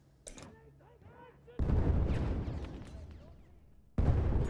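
Weapons fire loudly in the Battlefield 1 video game: heavy, booming bursts erupt after a brief voice-like sound at the start, then sustain in a dense, rattling volley before another sharp blast hits.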